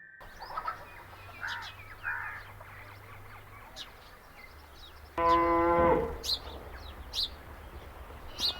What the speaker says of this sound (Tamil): என்ன செல்வம் இன்னுமா பால் கறக்குற கடைசி மாடுண்ணே